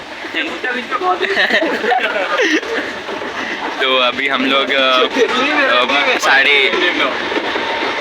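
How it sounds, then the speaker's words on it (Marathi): Mumbai local train running, with a steady loud rumble and rattle of the moving carriage, in the ladies-only section, under continuous close talk from passengers. "अभी लोकल में बैठे हुए हैं."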